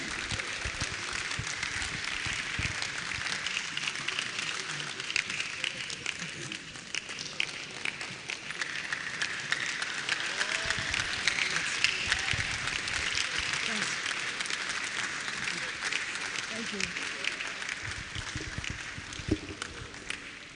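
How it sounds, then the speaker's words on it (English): Audience applause at an engineering alumni 30th anniversary gathering, a sustained wash of many hands clapping at moderate, even level for about twenty seconds, with voices mixed in underneath. "Continue clapping."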